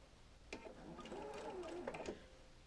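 A sewing machine sews off the last square of a double wedding ring quilt in one brief, faint run of rapid stitching that lasts under two seconds.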